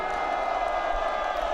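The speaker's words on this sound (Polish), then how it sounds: "Powitajmy mocnymi brawami naszych przyjaciół z Chorwacji i z Hiszpanii" A rally crowd applauds to welcome guests, a steady wash of clapping and crowd noise with faint cheering, continuous and fairly loud throughout.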